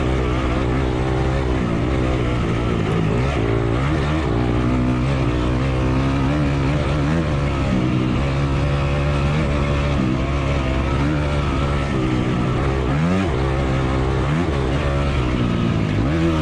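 Dirt bike engines racing in a desert harescramble, including a Honda CRF250X, with a steady loud drone and shifting revs as another bike follows close behind, continuous with no talk.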